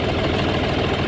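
A tractor engine idles nearby in a short, steady, throbbing low rumble with no change in pace and no voices.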